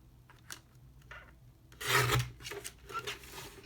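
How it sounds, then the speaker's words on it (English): Rasping strokes of sanding along the edge of a greeting card, scattered short scrapes building to a louder burst of rubbing in the middle, then a few lighter passes, close and quiet. "And sand down the other side."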